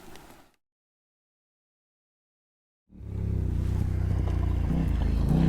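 A motorbike ridden hard on a mountain road in the San Juans, Colorado: after a brief burst and a gap of silence, a loud, steady engine roar rises and holds close by.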